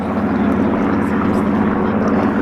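A Hawker Hurricane propeller fighter flies past at an airshow, giving a loud, steady, broadband engine and propeller roar that holds without break.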